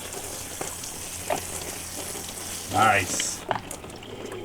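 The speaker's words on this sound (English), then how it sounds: "You taking a sunset shower?" Outdoor sunset shower on a sailboat on the Pacific Ocean, a steady hiss of running water spraying throughout, with brief voices speaking near the middle and a short clatter toward the end.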